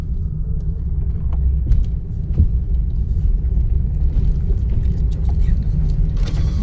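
A car pulls away in second gear as the clutch is let out, its engine giving a low, steady rumble close by while someone talks over it.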